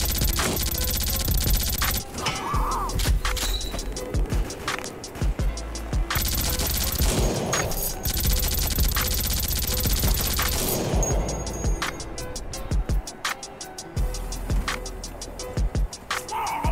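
Sustained machine gun fire in the shooter game World War Heroes, rapid bursts rattling almost continuously with brief pauses, loud and close, mixed with other game explosions and impacts.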